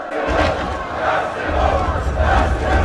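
Dense arena crowd from the film Gladiator roars and chants in rhythmic surges, loud and close, with a steady low rumble beneath the massed voices.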